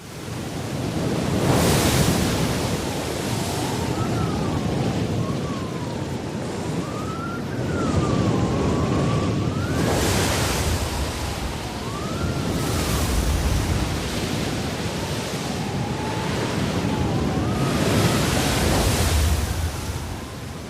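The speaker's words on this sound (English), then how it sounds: "Not merely a gale, but a full-force hurricane." Hurricane-force wind howls over a stormy sea, with rolling surges of breaking waves and a rising, wailing gust tone swelling and fading in repeated cycles throughout.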